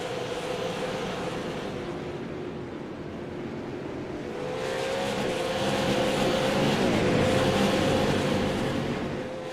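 Super Late Model stock cars race in a tight pack at Slinger Speedway in iRacing, a steady droning engine roar that swells louder midway as the cars sweep past close together, with no talk.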